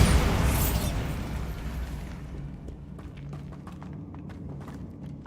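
Bombarda spell in Hogwarts Legacy detonating in a loud blast that rumbles and decays over a few seconds, followed by scattered debris clatter and light footsteps.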